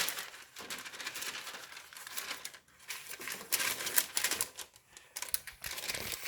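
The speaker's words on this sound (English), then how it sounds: "Then we'll add my parchment paper." Parchment paper being crinkled and pressed into a greased brownie tin, a dense close-up rustle of crackling and crumpling that stops briefly and resumes, with no talk.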